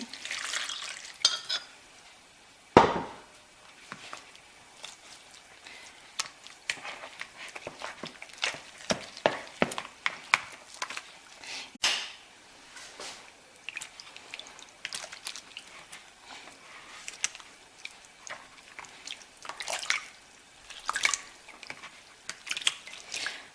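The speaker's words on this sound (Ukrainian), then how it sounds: "Для цього ми заливаємо сюди дуже холодну воду." Homemade butter is rinsed and worked in a bowl of very cold water, with faint splashing, sloshing and dripping, plus intermittent clicks and scrapes of a utensil against the bowl, quiet and close.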